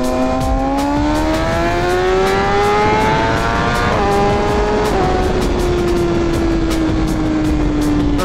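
A BMW M1000RR sport motorcycle accelerates hard, its engine note climbing steeply, dipping briefly at a gear change around the midpoint, then pulling on at a high, loud pitch amid strong wind rush.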